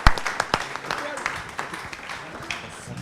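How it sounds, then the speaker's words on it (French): Audience applause at a public hearing: a short, sparse run of claps with uneven rhythm, heard under talk in a hall. "je suggère, si vous êtes d'accord, que vous les applaudissiez"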